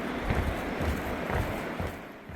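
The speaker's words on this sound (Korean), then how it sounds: "멀어졌던 계곡 물소리가 다시 커지기 시작합니다." A valley stream in Seorak flows beside a trekking path, a continuous broadband rush of water at a low, steady level with no voices.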